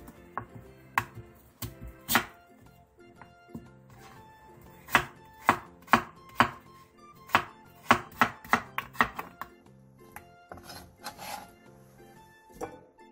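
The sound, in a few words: knife chopping radish into finger-sized sticks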